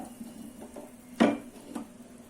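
A metal pot lid lifted off a pot of street-style mushroom soup simmering on a medium flame, one sharp clatter at mid-clip followed by a softer knock, with a quiet kitchen hum around it.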